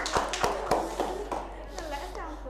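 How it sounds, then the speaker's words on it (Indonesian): Schoolchildren in a classroom clap their hands in a loose, uneven series of sharp claps, with children's voices talking over and between them. "tepuk tangan untuk kalian semua"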